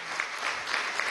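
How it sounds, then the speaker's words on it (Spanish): An audience at a Venezuelan televised political broadcast applauds revolutionary generals, with steady, dense clapping filling the whole second, close and fairly loud. "Un aplauso para estos generales revolucionarios,"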